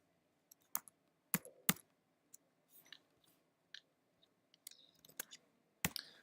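Someone types on a computer keyboard: a quiet, scattered run of single keystrokes and short clusters of clicks with pauses between them, nearby and with no speech.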